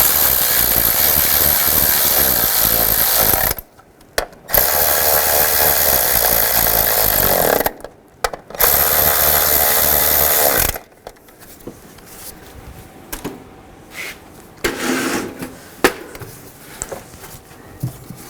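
Passenger-side valve cover bolts being tightened on a 2005–2015 Nissan Xterra: loud bursts of tool noise with short pauses between them, then quieter scattered clicks and handling sounds.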